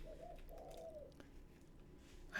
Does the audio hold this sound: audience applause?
no